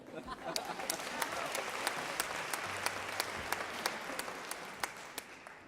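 An audience applauds at a year-end concert in Villorba, a dense, steady clapping from many hands, fairly faint and heard from a distance, with sharp individual claps standing out.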